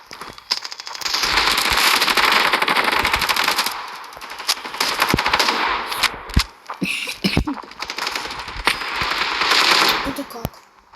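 Rapid automatic gunfire from a multiplayer video game shooter, with dense bursts of shots lasting several seconds, brief pauses between bursts and scattered sharp single reports.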